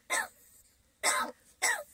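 A crow coughs like a human, three short harsh coughs close by, the first two a second apart and the third following quickly, with quiet gaps between.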